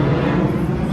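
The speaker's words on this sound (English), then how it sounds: "See that plane?" Steady, dense low roar of an aircraft engine, loud and continuous with no breaks or voices.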